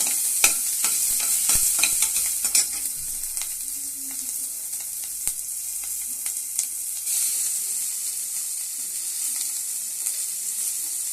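Green chilies frying in a pan with bay leaf and fennel seeds, stirred by a spatula: a steady bright sizzle under repeated scraping clicks and knocks of the utensil against the pan, close and fairly loud.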